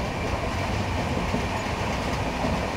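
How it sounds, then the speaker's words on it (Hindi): Palitana–Bandra superfast train running at speed: a loud, steady rumble with rolling wheel clatter, heard from on board and continuous throughout. "एक नंबर ट्रेन है वालीताना बांद्रा स्पीड सारी है सुपर फास्ट है"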